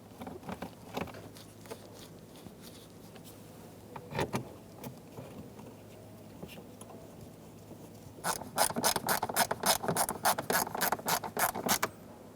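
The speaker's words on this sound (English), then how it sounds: "Install the screws into the bottom of the trim piece." Screws driven into the bottom of an interior trim piece on a 2014-2018 Chevrolet Silverado 1500, with scattered handling clicks and rubs, then a burst of rapid, close ratcheting near the end.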